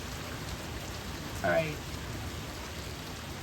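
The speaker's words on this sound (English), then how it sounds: "This is like probably over 2 inches of freaking rain right now too." Heavy torrential thunderstorm rain with street flooding in Westland, Michigan pours as a steady, dense hiss, with one brief spoken word partway through.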